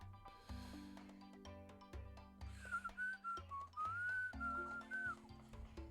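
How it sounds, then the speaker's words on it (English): A short, wavering whistle rises and dips over a few seconds in the Rush Royal mobile game, sitting on top of steady low tonal game music and repeated electronic plinks. "Little whistle there. You guys hear that?"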